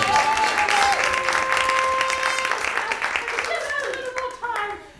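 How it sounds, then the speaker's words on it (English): An audience applauding Anna Russell at a live stage performance, a dense, loud burst of clapping that slowly thins and fades, with a voice speaking over it. "let's give a warm round of applause to Anna Russell"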